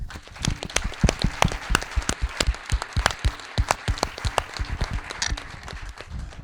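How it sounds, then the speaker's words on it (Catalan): Applause for a guest, Antonio Folguera, at a Catalan film presentation and discussion of Alcarràs; uneven, sparse claps from a modest audience, fairly close, with strong individual hand strikes throughout. "Un aplaudiment per Antonio."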